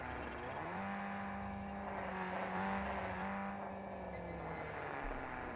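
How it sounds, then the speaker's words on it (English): Vehicle approaching in Warzone 2, a steady droning engine hum whose pitch rises and holds, fairly faint and continuous beneath game ambience. "We do have a vehicle coming to us."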